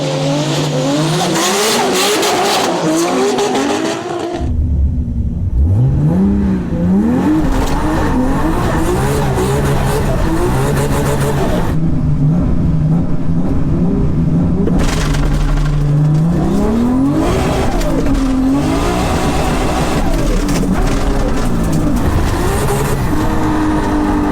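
Toyota Supra cars with 2JZ engines launch in a drag race, engines screaming loudly through rising and falling gear changes, with tyre squeal and sustained roaring acceleration over about twenty seconds, close and dominant.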